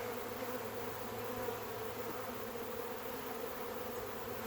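A swarm of honey bees fills the air with a dense, steady, droning buzz that holds constant throughout, close and unbroken, with no voices.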